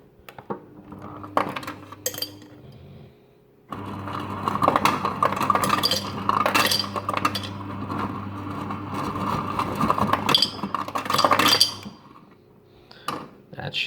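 Ice cubes clink and rattle into a glass for a Nescafe Dolce Gusto cold brew coffee, a run of bright clattering knocks over a low steady hum, fairly close, with no talk.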